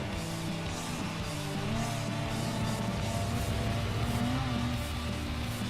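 A race car accelerating through a corner in Gran Turismo Sport, a Clubman Cup league race on PS4 Pro: a steady, loud engine drone with rising and falling tones that continues without a break, with no voices.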